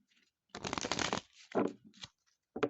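Tarot cards being shuffled by hand in quick riffling bursts, a long flurry followed by shorter bursts, close up and crisp in a quiet room.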